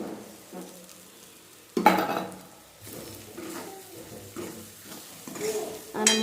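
Chili powder, turmeric and salt stirred into a pan of green chickpea curry, with clinking spoon scrapes over a soft sizzle in uneven bursts, close by.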